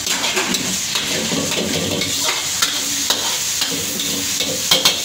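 Singaporean rice being stir-fried in a pan, with a continuous sizzle and frequent scraping stir strokes from a spatula, close and moderately loud, with occasional sharper clinks against the pan.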